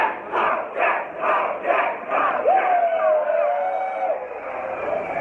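A crowd chants in rhythm at a rained-out festival, repeating loud, regular group shouts in a reverberant space, followed by a rising whistle or cheer above the voices.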